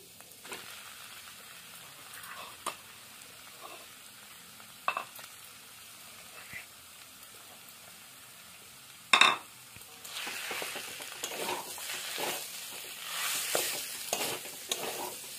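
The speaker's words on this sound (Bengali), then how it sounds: "আলুটা দিয়ে ভালো করে মিশিয়ে নেব।" Chicken and potatoes fried in a pan with a soft steady sizzle, punctuated by occasional spoon scrapes and one sharp clink against the pan, then louder stirring and hissing near the end.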